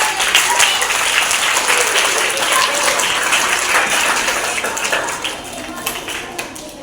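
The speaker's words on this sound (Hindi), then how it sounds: "जोरदार तालियों से स्वागत" School audience at a Hindi Diwas assembly giving a student speaker a loud round of applause, dense and sustained, tapering slightly near the end.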